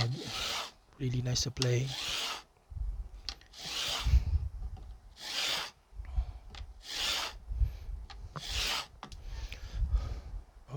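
A file works a bevel onto guitar fret wire ends during a refret, with repeated rasping strokes in bursts separated by pauses, close up. A person briefly speaks.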